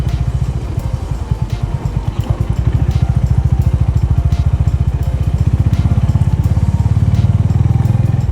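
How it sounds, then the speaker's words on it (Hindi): Motorcycles gathered on a road near Lonavala and Khandala idle and rev in a loud, close, continuous engine rumble, with rhythmic pulsing exhaust beats and occasional clatter, and no talk over it. "यहाँ देखिए बाइकर्स का जमावड़ा, और ये सब बाइकर्स सिर्फ और सिर्फ लोनावाला खंडाला।"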